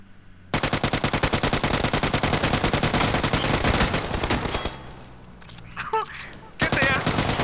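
Rapid automatic gunfire in a PUBG battle, a dense sustained burst of shots pounding for several seconds, then a short lull with scattered noises before another burst of fire resumes.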